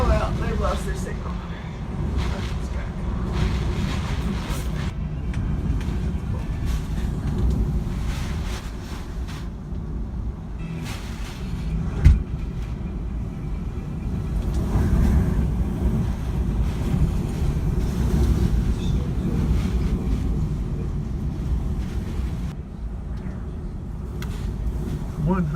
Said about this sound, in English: 170-mile-an-hour wind you're looking at right here